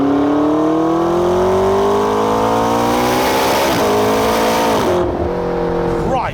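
A McLaren 650S supercar accelerates hard in second gear, its engine note rising steadily in a loud, close roar from inside the cabin before easing off near the end.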